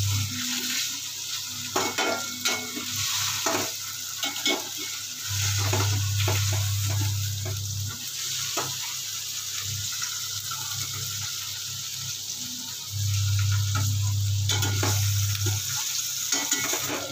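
Food frying in a pan until lightly browned, a continuous close sizzle with repeated stirring scrapes and clinks, low hum swelling at intervals, no voices.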